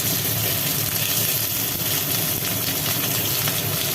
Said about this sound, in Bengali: এইভাবে তেলের ওপরে পটলগুলোকে বসালে ভেতর পর্যন্ত ভাজি হয়ে যায়